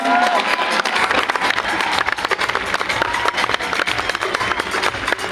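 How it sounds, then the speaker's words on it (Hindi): A conference-hall audience at a healthy-living company's second anniversary event claps loudly and continuously, a dense, sustained wash of applause with some crowd noise throughout. "जोरदार ताली"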